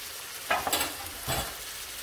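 Crab curry masala sizzling in a pan as a spoon stirs it, two short bursts of scraping and frying close by against a steady low hiss, no talk.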